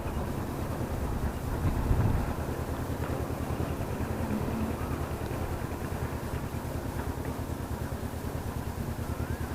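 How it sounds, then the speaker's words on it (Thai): Strong wind buffets the microphone outdoors on an early morning at a fishing spot, a steady low roar with a brief gust swelling around two seconds in. "ลมแรงด้วยครับ"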